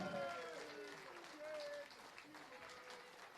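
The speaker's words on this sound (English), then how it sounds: "ladies and gentlemen, first of all, a massive round of applause for Jim McEwan." Applause from a darts match crowd at a world championship event, a broad steady clatter of many hands lasting throughout, with voices and a tonal call rising over it.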